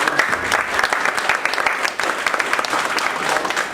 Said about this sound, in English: A huge applause to TechTown